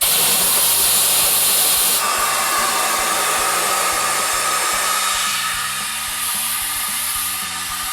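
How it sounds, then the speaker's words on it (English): Air compressor filling a tube-type tire for a Willys Jeep, a steady loud hiss of rushing air with a faint repeating pulse underneath, close and continuous. "We're just going to start putting air in it."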